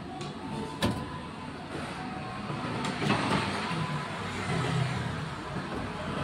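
An arcade claw machine runs with a steady mechanical whir and rumble, a few sharp clicks and clunks cutting through, heard close and fairly loud with no talking.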